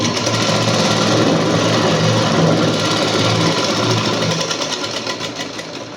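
Sewing machine running steadily while stitching a blouse hook strip, a loud continuous mechanical whir with a fast needle rhythm that holds for the whole stretch and eases slightly near the end.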